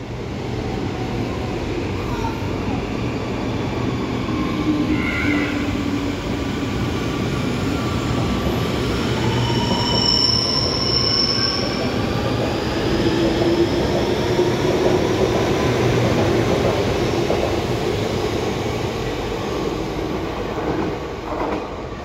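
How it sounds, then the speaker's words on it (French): An Amsterdam GVB metro train, a four-car CAF S3/M4 unit, rumbles steadily past at close range with continuous rail noise, faint clicks over track joints and a high whine rising and falling midway. "Ah bah voilà, un train."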